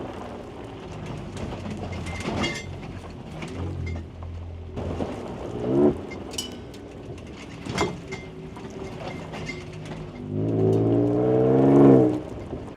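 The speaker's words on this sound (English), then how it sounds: "you hear this banging around and you just assume that the truck is falling apart" Metal poles clunk and rattle in the back of a truck in irregular loose bangs over a rumbling drive, with a heavier rattling burst near the end.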